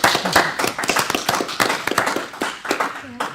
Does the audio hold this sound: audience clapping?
yes